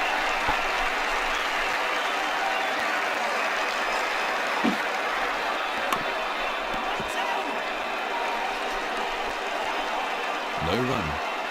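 Cricket stadium crowd applauding a six, a broad, steady roar of clapping and cheering that holds throughout, with a commentator's voice faintly over it.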